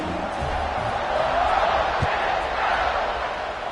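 A large stadium crowd roars in a steady, broad wash of noise at a college football kickoff between Oklahoma and Ole Miss. The roar swells slightly mid-way, with a faint thud partway through.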